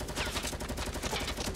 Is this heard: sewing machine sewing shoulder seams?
no